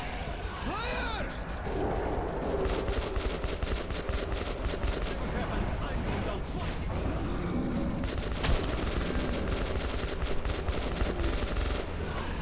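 Gunfire in the Metro 2033 video game: sustained rapid shots and bursts roar continuously and loudly throughout, with a voice briefly heard amid the shooting.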